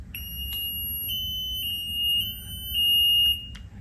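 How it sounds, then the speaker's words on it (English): Level alarm on a polypropylene tank sounding, a piercing high electronic beep repeating in a steady on-off pattern with faint clicks and low background hum. "Pressing the button silences the alarm for, in the default mode, 30 minutes."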